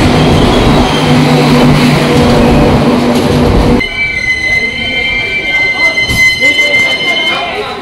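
The Sawantwadi Express rolls loudly into a station platform with rumbling wagons and squealing wheels, then quiets as the carriages slow. People talk over the noise.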